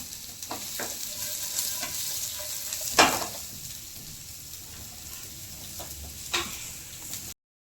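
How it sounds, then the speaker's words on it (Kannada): Green chillies frying in oil for a biryani masala, a continuous crackling sizzle with occasional spatula scrapes and one louder clatter, close and steady, with no speech. "ಇವಾಗ ಮೆಣಸಿನ್ಕಾಯಿ ಎಲ್ಲ ಹಾಕ್ಬಿಟ್ಟು ಫ್ರೈ ಮಾಡ್ತಾ ಇದ್ದಾರೆ."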